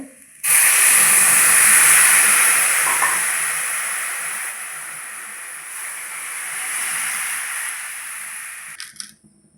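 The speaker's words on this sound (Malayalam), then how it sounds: "അപ്പോൾ നമ്മൾ ഇതിന് 4 കപ്പ് വെള്ളം ഒഴിച്ചു കൊടുക്കുന്നുണ്ട്" A loud, sudden hiss of four cups of water hitting a hot pan of semolina, steady and steaming for several seconds before cutting off.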